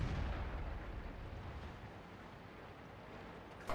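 A tank gun fires in a tank video game with a T-29 in the fight. A loud, deep boom opens and fades into a long rumbling tail, and another blast starts right at the end, with no talk over it.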